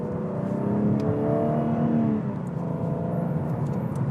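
A new BMW M4 Coupé on a racetrack, its engine droning loud and steady from inside the car as it accelerates, the tone climbing slightly through the run.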